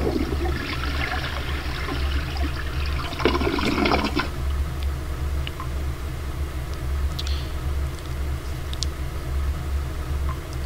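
A toilet flushing in the Leisure Suit Larry 7 video game, a rushing water burst in the first four seconds over a steady low hum, then fading to quiet trickles.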